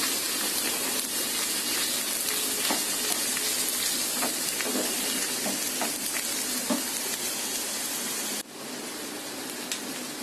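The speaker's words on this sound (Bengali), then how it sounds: "এখন আলু আর মটরটা একটু ভেজে নিব।" Potatoes and peas sizzle steadily in a hot pan, a dense continuous frying hiss with occasional stirring scrapes, briefly dipping near the end.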